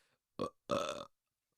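A short burp: a quick glottal croak followed by a longer, louder belch, close and alone with no talking.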